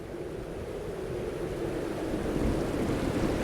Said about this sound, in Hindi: गांव की प्रमुख वशिष्ठी नदी में पानी जोरों से बह रहा है।